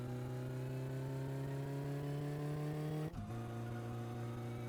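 A car engine in the game My Summer Car revs hard under acceleration as a steady, loud drone with climbing harmonics, then a brief gear-shift dip near the end before the revving picks up again, with no talk over it.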